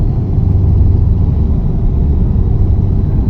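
Loud, steady low-pitched rumble of a Scania R580 V8 truck engine in Euro Truck Simulator 2, driving through the Spanish countryside, a smooth continuous drone with no voices.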